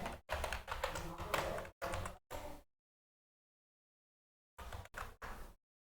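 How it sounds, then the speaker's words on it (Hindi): Bursts of quick key taps as a password is entered on a computer keyboard, close and clear, with a pause of silence before a few final short clusters of typing. "तो मैं यहाँ इसका पासवर्ड एंटर कर देता हूँ।"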